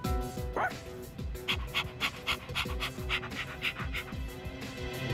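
Koromaru, a dog in the video game Persona 3 Reload, pants in quick rhythmic bursts with a short yip, over soft game music.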